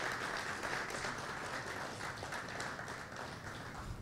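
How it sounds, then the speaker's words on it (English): An audience applauds as a guest is called on stage at a talk on extracurriculars and clubs: a steady, continuous wash of clapping, fairly soft and distant, lasting the whole stretch without any talking over it. "A big round of applause"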